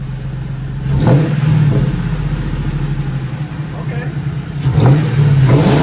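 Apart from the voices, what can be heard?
Ford Mustang engine revving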